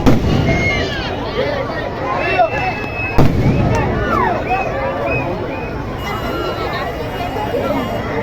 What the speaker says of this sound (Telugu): ఇలా టపాసులు పేల్చుకుంటూ సంబరాలు చేసుకుంటూ